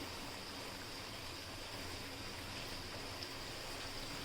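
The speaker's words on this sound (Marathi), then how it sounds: "बाहेर मस्तपैकी असा मुसळधार पाऊस चालू आहे" Heavy rain falls outside as a faint, even hiss that holds steady throughout, heard from indoors with no voices.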